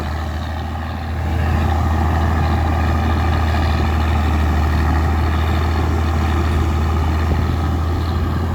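A heavy ten-wheel truck rumbles steadily and loudly nearby, its deep engine drone filling the scene with constant low noise for several seconds.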